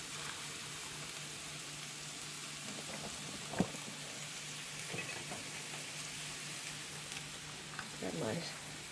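Pasta water at a rolling boil in a pot as spaghetti noodles drop in, a steady broadband bubbling hiss broken by a few short splashy clunks and stirs, moderately close with no talk.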